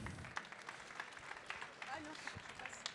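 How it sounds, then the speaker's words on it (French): Faint applause from the audience at an innovation prize pitch session, scattered claps heard at a distance with some voices mixed in. "je vous demande de l'applaudir"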